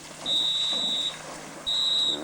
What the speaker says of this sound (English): You hear the command whistles.